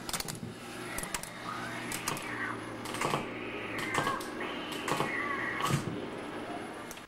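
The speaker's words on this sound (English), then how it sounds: "if you hit a cat, I got cat left and cat right. So let's hear the cats." Recorded cat meows from a Midway Haunted House arcade gun game play back off an 8-track tape: several short, tonal cries in a row over a steady mechanical hum and clatter.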